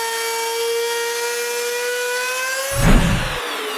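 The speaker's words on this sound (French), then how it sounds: "avec la deuxième mèche de l'ensemble, je coupe le profil inverse qui cachera les plis du contreplaqué" A second router bit from a matched set cuts a reverse profile into plywood edges, a steady high whine with a brief louder bite of cutting near the end, close and without talk.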